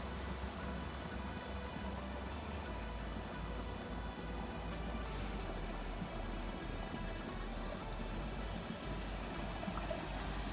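Water rushes and splashes in a steady, dense wash as it turns a paddle wheel, close by and unbroken throughout.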